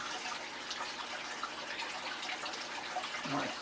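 Water poured slowly, a little at a time, into a fish tank during a water change, giving a steady close trickle and splash with no pauses.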